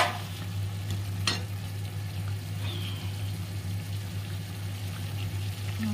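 Goat meat curry stir-fries in a pan: a steady low sizzle runs throughout, broken by a few faint scrapes of stirring, close and moderately quiet with no talking.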